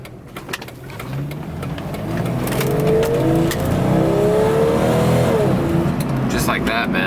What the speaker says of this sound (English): God, the downshift and upshift is just awesome on this Jeep.